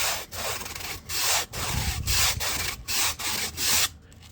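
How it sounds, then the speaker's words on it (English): A hinge slot tool is drawn back and forth across foam, making a series of rhythmic scraping rubs, about eight strokes, close and moderately loud, with short pauses between passes. "And just draw it back and forth a few times on the foam."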